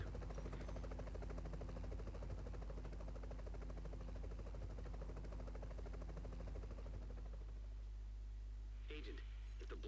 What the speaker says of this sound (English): Theo is going away with the chopper